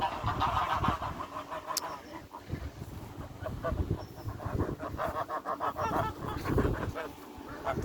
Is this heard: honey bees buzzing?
no